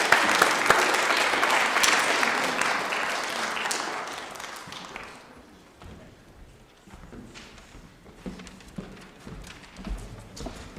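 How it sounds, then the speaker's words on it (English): Chapel audience applauding to welcome Mr. Kulkarni with the 7th grade advisory, dense clapping loud for about five seconds, then thinning into scattered claps and room shuffling. "Let's give him a round of applause."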